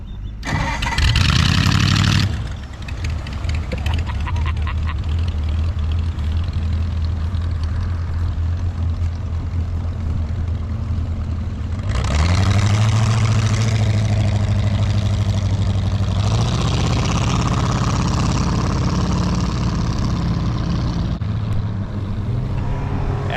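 A boat engine cranks and catches, then runs rough and uneven with a steady low drone, losing oil pressure and slow to pick up; it briefly stumbles and restarts mid-clip, loud and close with no talk over it.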